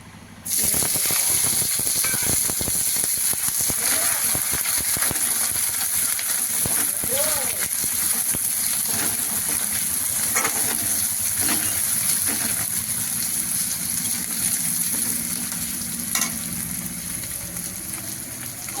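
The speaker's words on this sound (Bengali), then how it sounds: "চলুন পেঁয়াজ ভাজার পরে ফিরে আসছি" Chopped onions fry in oil over chillies already crackling in the pan, making a loud, continuous hissing sizzle that runs throughout, with a voice talking over it.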